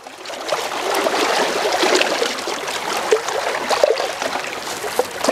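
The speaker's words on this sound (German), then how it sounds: "Aber da kommt noch mal eine Welle." Waves wash in along the Lake Constance shore at Altnau, near a long wooden pier: a steady, close, broadband wash and trickle of lapping water, with small splashy peaks and no talking.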